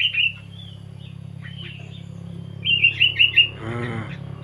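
Gelatik batu birds in a garden, a few bright high chirps and tweets near and clear, in short bursts over a low steady hum, with a low rattling sound near the end.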